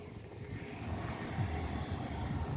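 An EasyJet airliner lands at the Cairo airport, its jet engines giving a steady, broad roar that holds at moderate loudness throughout with no one talking.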